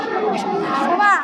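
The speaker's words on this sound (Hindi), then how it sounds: "इधर आप लोग देख सकते हो काफी मात्रा में भीड़ है" A large crowd at the Janaki temple fair in Janakpur, a dense murmur of many voices with a few higher shouts rising over it, close and continuous.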